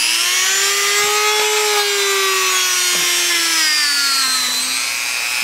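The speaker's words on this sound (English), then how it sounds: "I got a wire brush for my Dremel." A Dremel rotary tool fitted with a wire brush cleans up a lost-foam sand-cast aluminum LED skull, giving a steady, loud high-pitched whine with abrasive scraping that dips slightly in pitch as the brush presses on the metal.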